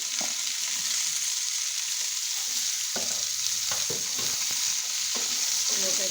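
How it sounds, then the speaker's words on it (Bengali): Pumpkin and potato pieces fry in hot oil in a pan, a steady loud sizzle with a scrape and clack each time the spatula stirs them. "কুমড়োটা একটু ভেজে নেব।"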